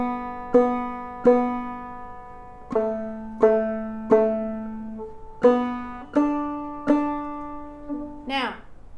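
A clawhammer banjo plays the tune "Mary": a slow sequence of bright, plucked notes, each with a sharp attack and a ringing decay, close and clear with no voice over it, ending on a brief scraping strum.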